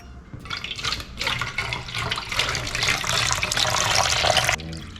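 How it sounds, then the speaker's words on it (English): Water poured steadily into a container for a homemade snowstorm science experiment, a continuous loud splashing rush lasting several seconds before easing off at the end. "you said to put some water in here. Okay, let's pour it up."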